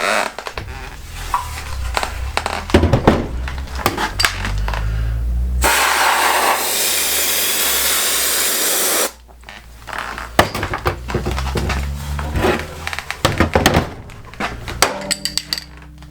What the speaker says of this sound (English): I'm going to spray quite liberally to give it some good corrosion protection in there.